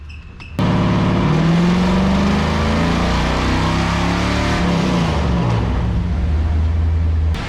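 A C4 Corvette V8 running a Holley Terminator X fuel-injection system on a cold start cranks and catches suddenly, then holds a loud, rough idle with rising and falling revs, close up and alone.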